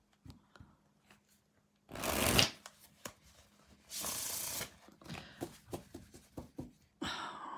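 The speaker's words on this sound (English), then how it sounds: "So let's just shuffle and bring out some new cards" Tarot cards are shuffled in several brisk riffling bursts separated by short pauses, with soft taps and handling sounds in between, close and fairly quiet.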